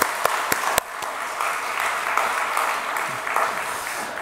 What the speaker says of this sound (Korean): 우리 영광의 박수 한 번 더 올려드리도록 하겠습니다